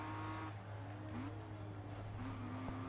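A BMW race car in GRID Autosport drifts with a loud engine whine that rises and falls through gear changes, joined by faint tire squeal over a constant road rumble.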